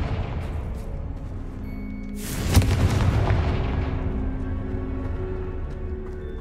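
A Confringo fire spell explodes in Hogwarts Legacy, one loud burst that rolls into a long rumbling fade over a steady game background.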